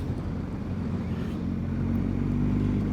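Motorcycle touring through the small Irish town of Killala, its engine a steady low rumble with wind noise, close and continuous, with no talk.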